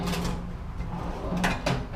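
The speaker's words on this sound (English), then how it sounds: "the drawers open and close pretty smooth." Metal drawers of a Harbor Freight roller tool cart (item 95659) sliding open and shut a few times in quick succession, with short scraping clicks over a steady background hum.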